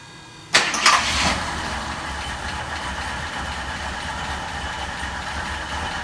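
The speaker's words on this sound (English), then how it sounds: "Give it a little throttle and I bet the choke will kick on because it's been sitting." An old motor that has been sitting cranks and catches with a sharp burst, then settles into a steady, rough idle that runs on alone for several seconds.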